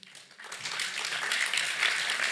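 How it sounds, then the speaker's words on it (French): Audience applause at a French business event on housing, the clapping swelling into a dense, steady wash of many hands that holds at moderate loudness to the end. "Vous pouvez applaudir"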